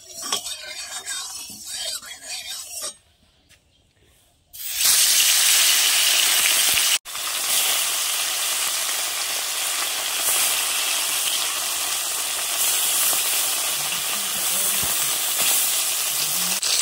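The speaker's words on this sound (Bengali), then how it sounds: "এখন তেল দিয়ে দেবো, মাছগুলো ভেজে নেব" Bata fish fry in hot oil in a wok. After a few seconds of quieter kitchen clatter, a loud, dense sizzle erupts and continues steadily up close for the rest of the stretch.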